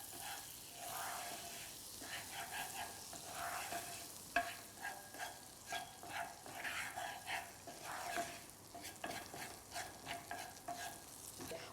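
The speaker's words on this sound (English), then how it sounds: "I'm just breaking up the bits of garlic here and spreading them over the pan." Bits of garlic frying in butter in a steak pan, soft sizzling under repeated rhythmic scraping as a utensil breaks them up and spreads them around, fairly quiet, with a faint dog bark in the background.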